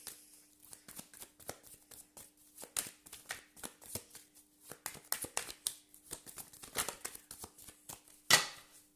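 A deck of tarot cards is shuffled by hand at close range, quiet irregular bursts of sliding and flicking card edges with short pauses between, ending in a sharper slap.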